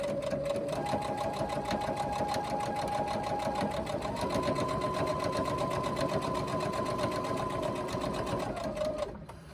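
A sewing machine stitches a slip pocket onto a crossbody bag along a marked line, running steadily and loud at close range for most of the time, its motor whirring in a continuous rhythmic drone before stopping abruptly near the end.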